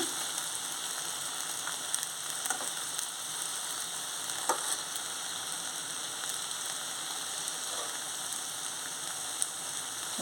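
Brinjal pieces frying in a pan with dried red chilli powder give a steady, quiet sizzle with faint crackles and an occasional soft pop, heard alone without talk.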